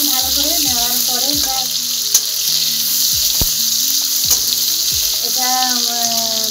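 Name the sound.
tomatoes frying and being stirred in pan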